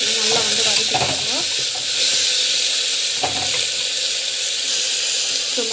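Onions and tomato sauté in a hot pan with a loud, steady sizzle, punctuated by a few scraping stirs and soft clanks of the spoon against the metal, near and without talk.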